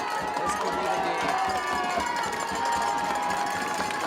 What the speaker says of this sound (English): Crowd is on their feet.